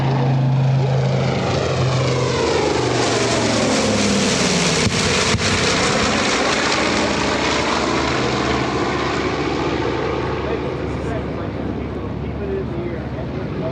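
A propeller-driven warbird bomber roars past at the EAA AirVenture 2025 airshow, its loud engine drone swelling and shifting pitch as it passes, while an announcer talks over it.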